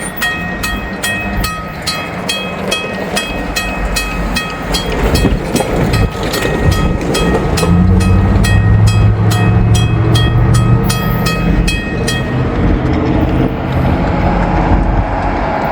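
A loud train rumbling past up close, wheels clacking in rapid rhythm over the rails, the heavy roar building and then fading slightly toward the end.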